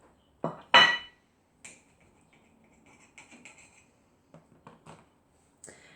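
Knife slicing straight down through a sandwich on a plate, a sharp cut and clatter near the start followed by lighter taps and scrapes of the blade against the dish, close and clear.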